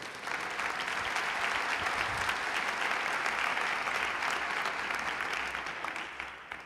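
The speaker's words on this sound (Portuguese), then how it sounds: "Você quer dar um aplauso ao Senhor?" A church congregation applauds in a sustained, even wash of many hands clapping, fairly distant and moderate in level, holding steady before tapering off at the end.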